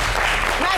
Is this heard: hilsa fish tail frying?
no